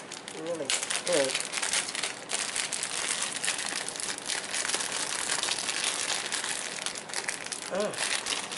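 A heavily taped package being torn open and unwrapped, with continuous loud crinkling and crackling of tape and wrapping, and a person's brief voice sounds heard a few times.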